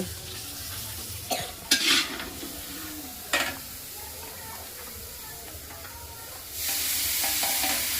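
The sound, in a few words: fish cooking on a gas stove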